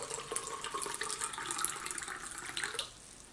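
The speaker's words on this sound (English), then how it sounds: "I'll invite you to put some water into that cup" Water from a tap pours steadily into a cup for about three seconds, a bright continuous splashing trickle close by, then cuts off, leaving near silence.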